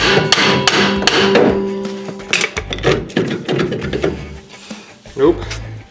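Repeated metal hammer blows on brake spindle hardware during a front disc brake swap, sharp irregular clanks and ringing taps up close, with mechanical clatter between strikes.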